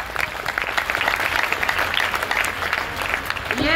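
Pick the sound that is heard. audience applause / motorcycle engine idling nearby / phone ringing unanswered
audience applause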